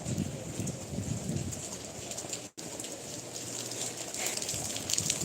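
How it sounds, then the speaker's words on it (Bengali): Night rain falls in Saudi Arabia, a steady broad hiss of rainfall with a brief dropout midway and a faint low cooing bird in the background, no voices present. "এখন রাত্রে বৃষ্টি নামছে"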